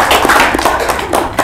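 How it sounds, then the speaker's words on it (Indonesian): Audience applause closing a campus talk show about international student adaptation, a brief burst of close, dense clapping. "Mungkin boleh beri tepuk tangan untuk kita semua."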